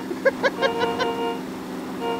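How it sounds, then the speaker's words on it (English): Car horn honking in PLAYERUNKNOWN'S BATTLEGROUNDS: five short toots in a quick uneven series, fairly close, with engine hum underneath and then a steady tone after. "Is that you honking?"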